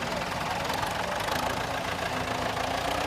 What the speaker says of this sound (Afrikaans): So ons het hom net daar gestart, het ons hom op die petrol gestart en hom laat warm loop